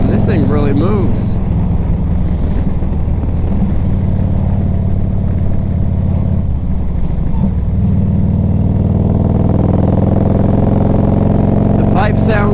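A 1998 Harley Davidson Electra Glide Classic rumbles loud and close through its exhaust pipes on a test ride, with a steady low engine throb, wind buffeting and several brief throttle rises.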